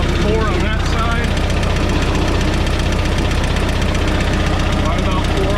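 Volkswagen Type 4 engine with dual carburetors idling during carburetor synchronization, a steady close mechanical drone with fast ticking and a knocking edge.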